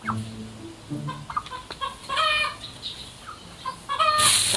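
Chickens cluck and squawk repeatedly at close range in short, irregular bursts, ending in a loud flurry, with no talk over them.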